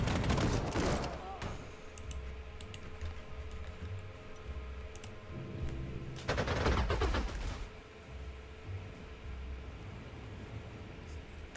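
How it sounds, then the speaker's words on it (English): Gunfire from tank units in the WWII strategy game Panzer Corps 2, set at the 1939 Siege of Warsaw: bursts of sharp shots and rattling fire, a strong cluster at the start and another around six seconds, with a lower rumble between them. "Let's open fire."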